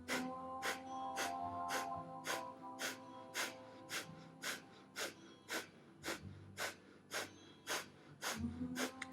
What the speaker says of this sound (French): Et quand vous êtes prêt, respiration du feu.